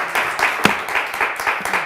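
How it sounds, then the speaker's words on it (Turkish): Studio audience applause on a Turkish word game show, brisk bursts of clapping filling the short stretch at a fairly loud level, with one sharp louder clap near the middle. "Nerede bizim alkışlar? Bol bol bol bol."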